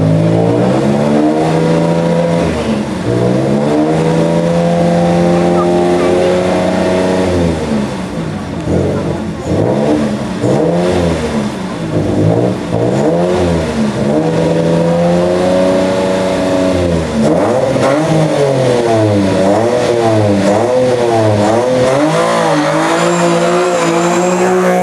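A Nissan 350Z race car engine roars loudly at a historic hill climb, revving up through rising pitches and shifting gears repeatedly, with occasional tire squeal, sustained for the whole stretch.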